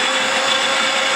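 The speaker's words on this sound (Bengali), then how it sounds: "আর কাঁচা লঙ্কা আছে। বেটে নেব।" A kitchen grinder whirs loud and steady as it grinds sesame seeds, garlic and green chili, a dense, even mechanical roar that cuts off abruptly at the end.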